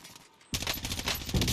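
Rapid automatic gunfire from a battle royale video game bursts in loud and dense after a brief quieter stretch, sustained close firing with heavy recoil.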